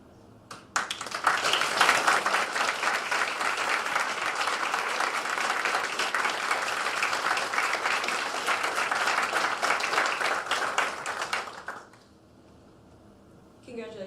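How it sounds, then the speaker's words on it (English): A crowd applauds new U.S. Air Force lieutenants at a commissioning ceremony, with steady, dense clapping sustained for about eleven seconds before cutting off sharply into near quiet. "Please join me in a round of applause to congratulate all of our new lieutenants."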